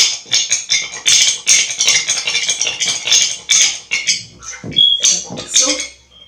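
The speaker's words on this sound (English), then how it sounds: "And it also helps the honey to melt into the drink. So just stir it." A spoon stirs warm water with honey and apple cider vinegar in a glass, making a fast, steady run of bright clinks against the sides, loud and close, with a few heavier knocks near the end.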